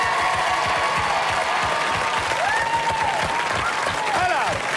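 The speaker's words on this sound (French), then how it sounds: "Je demande un tonnerre d'applaudissements pour nos deux équipes" An audience at a French television game show breaks into loud, sustained applause that stays dense and even throughout, with a voice carrying over the clapping.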